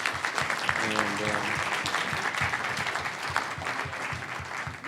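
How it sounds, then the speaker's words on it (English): An audience at a cryptocurrency panel discussion applauds the panel with dense, steady clapping for about five seconds, while a voice speaks briefly. "why don't we give our panel a round of applause?"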